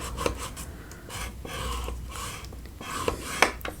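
Cardstock being scored at half-inch marks for a handmade card, heard as quiet scraping and rubbing strokes with a few small taps, close and soft, with no talk.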